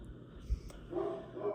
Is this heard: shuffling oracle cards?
no